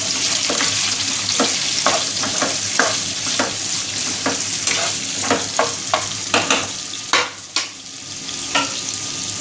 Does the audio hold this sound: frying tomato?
yes